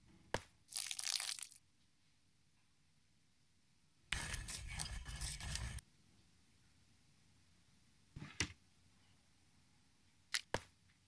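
Short crunchy pinches and a longer gritty pouring rustle as black powder is added to a mixture in the point-and-click adventure game Deponia, spaced out over quiet background with a few sharp clicks.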